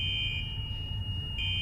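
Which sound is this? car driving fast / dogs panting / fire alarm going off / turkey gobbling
fire alarm going off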